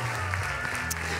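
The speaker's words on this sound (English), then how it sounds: "Keep clapping all these amazing heroes of this house." Church congregation clapping for staff members, continuous crowd applause under a low sustained musical tone, with a voice faintly present.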